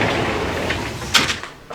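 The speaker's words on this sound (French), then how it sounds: "On va fermer la porte." A door being closed in a house during a home safety check, heard as a fairly close thud and brief rattle near the end, over steady room noise, with no talk.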